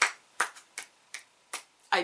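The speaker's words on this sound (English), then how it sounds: "It's not a slow clap. It's an honest clap." Six single hand claps at an even, deliberate pace about a third of a second apart, sharp and close, with the last clap slightly fuller.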